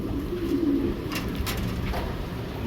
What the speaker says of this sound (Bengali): জোড়া আজকে নিয়ে আসছি জোড়া কবুতর